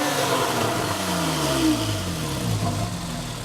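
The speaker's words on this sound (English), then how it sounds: "there's no reason not to activate the Sport Exhaust button. It reduces back pressure and reverberates intake noise off the back wall of the 911." A 2013 Porsche 911 Carrera 4S with the sport exhaust engaged, its engine snarling through rising and falling revs, loud and close with a throaty, resonant exhaust tone and no voices.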